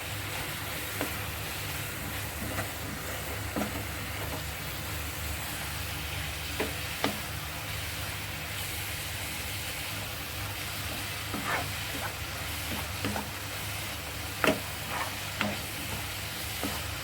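Crushed kasuri methi stirred into a pan of food cooking alongside carrot and spinach: a steady, close sizzle with occasional soft scrapes and taps from the spoon.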